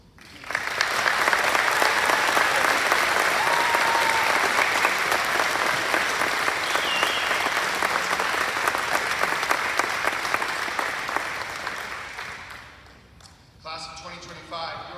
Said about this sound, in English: This is the time for that rapturous applause.